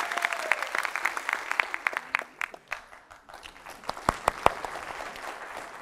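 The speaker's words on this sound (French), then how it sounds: "On applaudit Ayman, s'il vous plaît." An audience claps for a volunteer called up onstage during a magic show at a TEDx event. The applause is moderate and uneven, with sharp individual claps standing out over a thinner wash.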